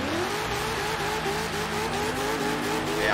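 Tires squeal under a revving car engine in Forza Horizon, with a loud continuous rising engine drone carrying faint screeching grip noise across a few seconds and no voices.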